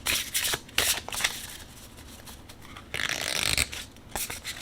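Tarot cards being shuffled by hand, a run of quick riffling bursts and soft slides that come and go in short uneven waves, close and clear with no talking over them.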